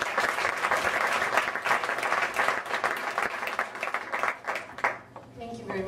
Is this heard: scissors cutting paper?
no